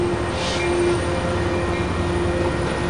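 A train rumbles past at Carlsbad Village with a steady roar and a faint high whine from the rails, continuous throughout.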